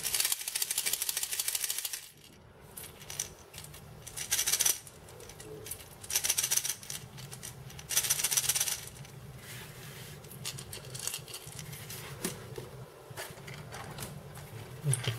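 Baysquad Bearking 115F fishing wobbler, a matte-finish noisy lure, handled close by, giving bursts of sharp clicking rattles separated by quieter handling rustle, with no talking.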